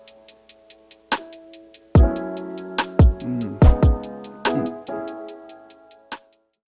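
A trap beat programmed in Logic Pro X, with crisp rapid hi-hat ticks over booming 808 kicks and melodic synth chords, loud and rhythmic with no voices.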